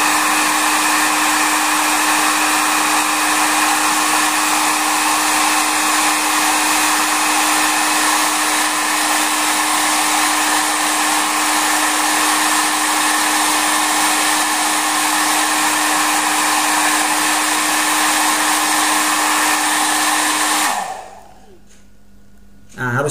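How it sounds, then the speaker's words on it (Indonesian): A hair dryer blowing hot air onto skin to loosen Korean glue, a loud steady whine and rush held continuously for about twenty seconds before it is switched off. "kulit kita juga ini kepanasan kena hair dryer nih"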